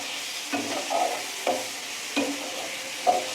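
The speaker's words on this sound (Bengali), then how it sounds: "এবার কষে নেব।" Potato and pointed gourd cook with tomato and turmeric in a pan, a soft steady sizzle broken by four distinct scraping stirs of a spatula, close and without talk.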